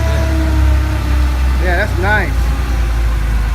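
A 1981 Porsche with a supercharged engine idles in a steady, loud, low rumble throughout while someone speaks briefly over it.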